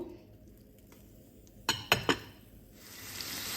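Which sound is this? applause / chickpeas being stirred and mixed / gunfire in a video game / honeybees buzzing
chickpeas being stirred and mixed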